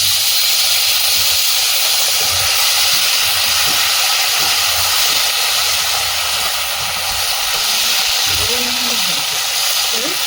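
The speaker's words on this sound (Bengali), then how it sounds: "কাঁকরোলটা ভেজে নেবো এই তেলের মধ্যে" Spiny gourd frying in hot oil gives a steady, loud broadband sizzle that fills the whole stretch, with some low clatter and a brief voice-like sound near the end.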